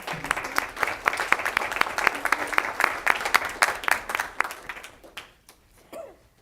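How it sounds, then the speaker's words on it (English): Applause at a city council meeting: many hands clap steadily for several seconds, loud and sustained, then thin out to a few scattered claps as it dies away. "let's give her one last round of applause, everyone"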